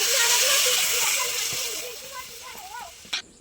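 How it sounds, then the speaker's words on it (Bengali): Water poured into a pan of hot frying vegetables bursts into a loud hiss of steam that gradually fades, while someone speaks softly over it and a short clunk comes near the end. "আমি জল দিয়ে দিচ্ছি।"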